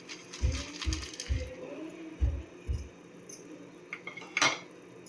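A spoon stirs rava kesari with ghee-fried cashews and raisins in a pan, giving a quiet, rhythmic series of soft thuds and light metallic scrapes and clinks.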